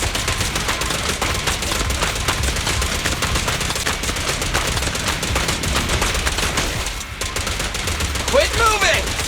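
Rapid automatic gunfire in the Zenless Zone Zero action game, a dense continuous stream of shots close and loud for most of the clip, briefly thinning near the end.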